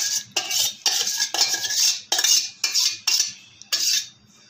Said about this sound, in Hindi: इसको सारे को अब मिक्स कर देते हैं।